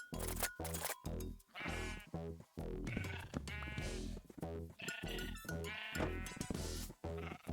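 Minecraft sheep bleating repeatedly in a video game, several loud close bleats in quick succession with short gaps between them, no talking.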